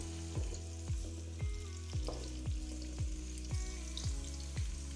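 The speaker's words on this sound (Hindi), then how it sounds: "आधी प्याली हमने घी डाला है। प्याज फ्राई करते हैं।" Onions frying in ghee give a steady close sizzle, with regular scraping stirs roughly every half second, no voices.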